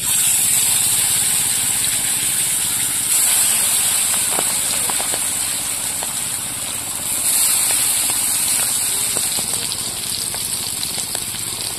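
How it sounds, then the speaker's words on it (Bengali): Pangas fish rubbed with salt and turmeric fries in hot oil in a wok, giving a loud continuous hiss and sizzle with scattered sharp pops throughout. "এবার মাছগুলো ভেজে নেব।"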